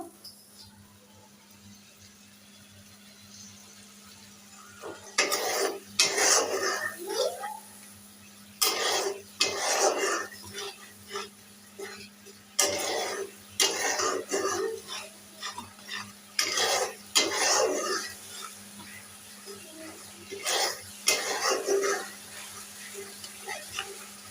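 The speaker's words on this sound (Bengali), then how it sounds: "মশলাটা সুন্দর করে কষিয়ে নিই তো এরকম মশলাটা সুন্দর করে কষিয়ে নিলাম" Spice paste of garlic, coriander, chili and turmeric sautéing in a pan: bursts of scraping stirs and metal utensil clatter recur every couple of seconds over a faint sizzle.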